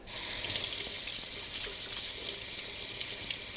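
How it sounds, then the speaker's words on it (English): Tap water runs steadily into a sink as flour is rinsed off hands, a soft, even splashing hiss heard close up and alone. "I'm just going to wash my hands here for a second, just to rinse off all of my flour."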